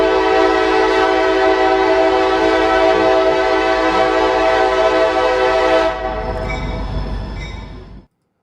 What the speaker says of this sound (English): I have the train horn. I've been wanting to use it.